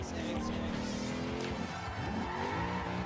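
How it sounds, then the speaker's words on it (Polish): Car tyres squealing while drifting in the racing video game Forza Horizon 2, a continuous engine drone with wavering tyre screech running throughout, fairly loud and close. "A, dobry drifting."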